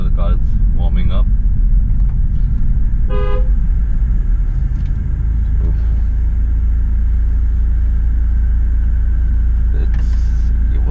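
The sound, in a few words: BMW F30 320i B48 with FTP charge pipes driving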